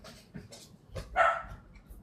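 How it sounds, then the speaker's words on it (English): A dog barks a few short times nearby at a home craft workspace, sharp yips rising out of quiet room noise with a louder bark near the middle. "Oh, don't you bark at me, you doggy."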